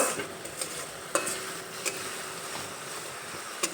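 A spoon scrapes and taps while stirring spices and black pepper powder in a pan over a medium gas flame, with a soft steady sizzle under several distinct metallic knocks.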